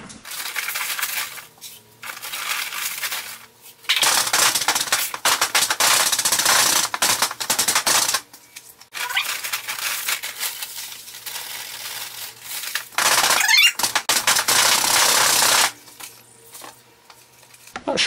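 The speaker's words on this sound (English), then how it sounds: "So now we're gonna sift up this bag and we'll have all kinds of media to use." Play sand shaken through a homemade sifter in bursts of coarse, gritty rattling and hissing, several loud sustained stretches separated by short pauses, with no talking.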